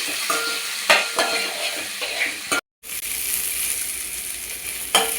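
Cloves, a small piece of ginger and shahi jeera frying in a pan, a continuous crackling sizzle with a few stirring scrapes and a short dropout midway, no speech.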